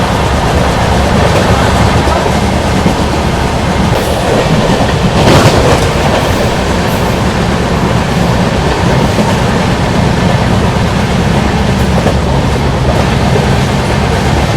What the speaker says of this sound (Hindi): ट्रेन वडोदरा से जस्ट निकली है।